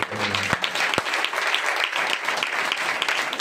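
A church congregation claps loudly and steadily during a service, a dense continuous applause with a couple of sharp knocks near the start.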